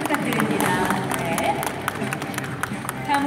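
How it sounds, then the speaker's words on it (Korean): A crowd claps through an opening ceremony as guests are invited to the front, steady many-handed applause with an announcer's voice heard partly over it. "여러분 큰 박수 부탁드립니다"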